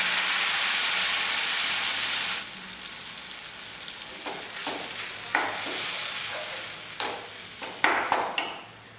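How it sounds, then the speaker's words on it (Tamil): Ground coriander paste fries in hot oil in a pan. A loud, dense sizzle drops suddenly to a softer crackle, broken by scattered spoon scrapes and clinks as it is stirred, with no talking. "இந்த மல்லி வந்து நல்லா வத்துற வரைக்கும் கொஞ்சம் நேரம் வற்ற விட்டுருங்க"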